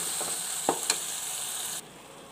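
Tomatoes with salt are stirred in a frying pan, giving a steady close sizzle broken by a couple of scraping strokes before the frying noise drops away abruptly.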